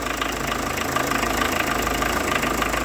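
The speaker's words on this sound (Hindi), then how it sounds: "अभी ठंडा इंजन है, देखा कैसी आवाज़ कर रहा है।" A cold car engine idles close by, a loud, steady mechanical drone with a fine rapid knocking texture running evenly throughout.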